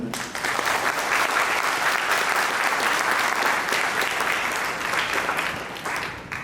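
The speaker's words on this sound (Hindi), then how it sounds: "इनके लिए ताली मारेंगे।" An audience at an Amritsar youth camp claps steadily in a sustained burst of dense applause that fills the room for several seconds before tapering off.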